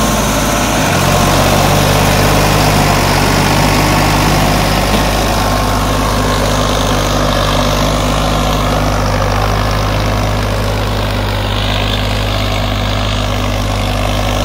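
A 2007 Farmtrac 60 tractor engine idles steadily nearby, a loud, constant low diesel rumble with a brief dip near the start and no talking.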